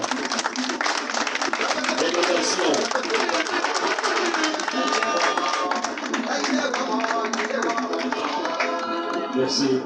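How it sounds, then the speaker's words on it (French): Dense, continuous applause from a large congress audience fills the hall loudly and steadily, with cheering voices mixed into the crowd noise throughout. "On applaudit très fort."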